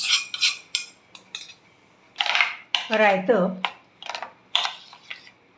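A spoon stirs potato raita made with yogurt, peanut powder, grated coconut, coriander and a cumin-ghee tempering, giving sharp, close clinks against the bowl in short irregular bursts while someone talks between them.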